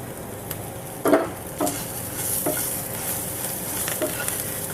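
Ivy gourd frying in a pan with coriander being added, stirred with a few distinct scraping strokes over a steady soft sizzle, close and moderately loud.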